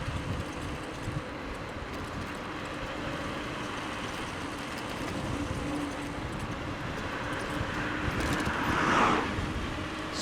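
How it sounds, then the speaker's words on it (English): A car approaches from behind a cyclist on a country road, its steady rumble growing slowly over wind and road noise and swelling near the end. "I've got a car behind me now, I can hear it."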